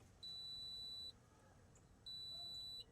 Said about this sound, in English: That beeping tells me there's continuity.